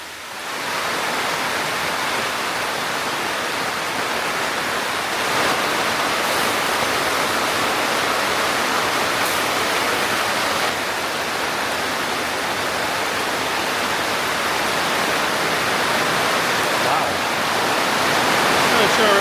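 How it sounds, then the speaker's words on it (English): A steady, dense roar of very heavy rain, loud and continuous throughout with no pauses. "never heard it rain this hard. This is crazy."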